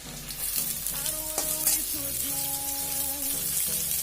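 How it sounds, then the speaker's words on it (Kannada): A pan sizzles steadily as something fries before onions go in for baby corn Manchurian, with a constant close hiss and faint scattered stirring taps. "ಇದೊಂದು ಫ್ರೈ ಆದಮೇಲೆ ಈರುಳ್ಳಿ ಹಾಕೋಣ."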